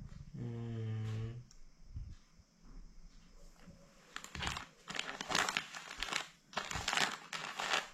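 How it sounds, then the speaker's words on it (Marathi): A sticker is peeled off its backing and pressed into place, making close, crinkly rustling bursts in several short clusters after a brief whining tone at the start. "आतां स्टिकर लायतली. सो फर्स्ट स्टिकर लायता पळय."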